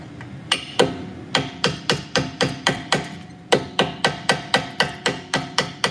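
Rapid bursts of a pneumatic air hammer striking the brake pin on a Tesla Model 3, about a dozen loud, sharp metallic blows in quick rhythmic clusters with a brief pause in the middle.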